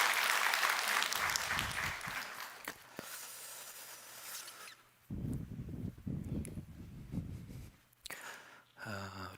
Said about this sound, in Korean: 고마운 마음을 담아서 하나님 앞에 영광의 박수 하시겠습니다